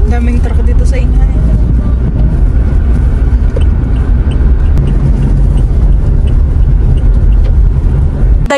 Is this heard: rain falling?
no